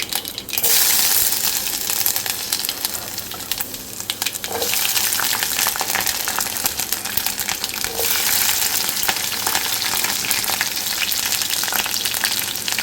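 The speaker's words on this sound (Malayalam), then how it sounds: "എണ്ണ ഒഴിച്ച് കടുകിട്ടു കടുക് പൊട്ടിക്കഴിഞ്ഞപ്പം കുറച്ച് ഇഞ്ചിയും പച്ചമുളകും" Continuous close sizzling and crackling of mustard seeds, ginger and green chillies frying in oil, with occasional pops and light stirring clinks, no talking.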